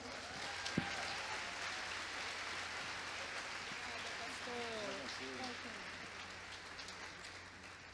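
A church congregation applauds as pastor Helena Raquel is welcomed, a steady wash of clapping running the whole stretch with voices rising over it.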